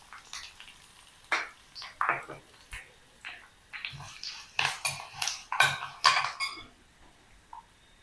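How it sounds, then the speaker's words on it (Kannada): Black mustard seeds spluttering and popping in hot oil in a pan while making a brinjal palya, with dry chilli pieces, curry leaves and turmeric going in; irregular close crackling bursts that thicken toward the end. "ಸಾಸಿವೆ ಎಲ್ಲ ಚಟಪಟ ಅಂತ ಇದೆ"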